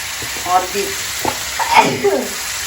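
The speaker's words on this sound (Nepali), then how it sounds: "अब हामी यसलाई भुट्नुपर्छ। यसरी मसला भुट्नुपर्छ।" Spices crackle and hiss in a hot pan, the steady sizzle running beneath a person talking.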